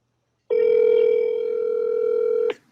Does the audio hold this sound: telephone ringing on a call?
yes